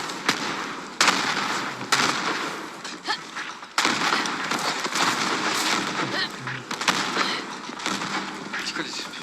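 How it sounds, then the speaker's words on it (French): Explosions and gunfire in the Borderlands video game: dense, continuous bursts of blasts and crackling shots, with several sharp booms standing out, loud and close throughout. "C'est quoi les explosions?"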